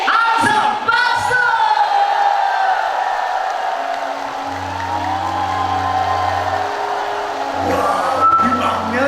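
A women's singing-class audience cheers and applauds as a singer is introduced, a continuous crowd roar with whoops and sustained tones, steady and fairly loud throughout.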